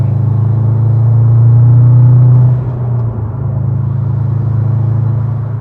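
A 2010 Subaru STI fitted with a Sprint Booster V3 accelerates, its engine a loud, steady low rumble heard from inside that swells, then drops slightly as the load changes.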